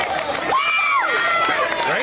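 A home crowd cheers at a girls' cross-country race, a steady roar of shouting and calling spectators with whoops rising above it, near and continuous, with voices talking in the mix.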